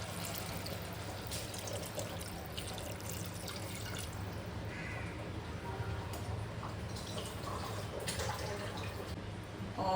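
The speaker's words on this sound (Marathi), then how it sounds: "आता ह्यात मी अप्रॉक्स एक मोठा ग्लास पाणी घालत आहे" Water from a large glass poured into a cooking pot for a traditional Maharashtrian chicken kharda, a steady close splashing pour that runs unbroken for the whole stretch with no talk.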